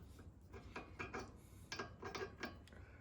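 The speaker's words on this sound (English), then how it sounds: "So we're gonna tighten these bolts real quick." Ratchet tightening bolts on a Mazda Miata suspension knuckle during a differential swap, heard as a series of close, rhythmic clicking bursts with short pauses between pulls.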